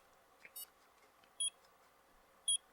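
Short electronic beeps from a handheld game, faint and quiet, with three brief tones at roughly one-second intervals over low background hum and no talking.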